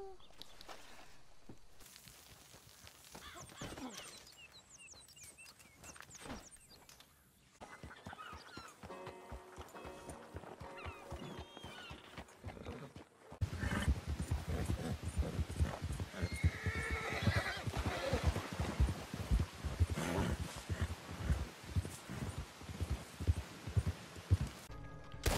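A horse in Red Dead Online trots with steady, close clip-clop hoofbeats that grow louder and busier midway, broken by an occasional neigh.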